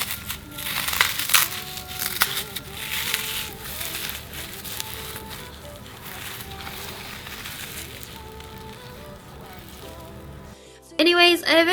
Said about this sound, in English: I eventually managed to crush up all the foam